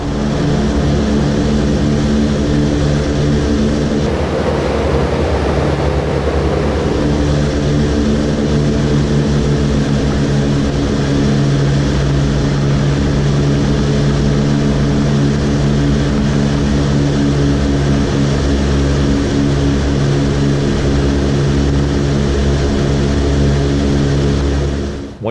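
Radial propeller engines of a Boeing B-29 Superfortress roaring at takeoff power, a loud, continuous, close droning rumble with a brief surge of added rushing noise early on, no voices.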